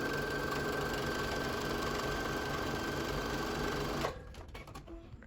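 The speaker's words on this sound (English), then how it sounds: "sew these two pieces of fabric right side together along one of these 9 inches" A sewing machine stitching two pieces of fabric together for a filtered face mask, whirring in a steady fast run before stopping abruptly, followed by a few quiet clicks and handling sounds.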